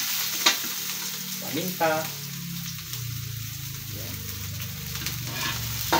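Onion sizzling and frying in a pan as ground meat and bitter gourd with egg are cooked, a steady close sizzle with a few stirring scrapes while someone speaks briefly.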